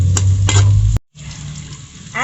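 Ginger is stirred and sautéed in a hot pan for chicken curry, making a loud, close sizzle with scraping stir strokes that briefly cut out and then resume at a lower hiss.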